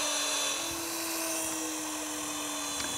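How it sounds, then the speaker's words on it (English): A steady high-pitched whine of a power drill in a drill stand running continuously as it bores pilot holes through an electric guitar body, with no pauses or talk. "I'm going to drill pilot holes with the drill stand right the way through the guitar"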